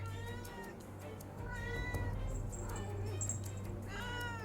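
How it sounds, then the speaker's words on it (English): A cat meows loudly several times in drawn-out, wavering calls, close and clear over a low background hum. "is a very loud cat"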